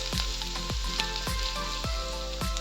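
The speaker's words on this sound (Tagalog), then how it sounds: "Huwaton sa nato gamay nga medyo mag golden brown ang atoang ahos nga gigisa" Garlic sizzles with softened onions in a hot pan, a steady close frying hiss broken by regular scraping stirs, with no voices.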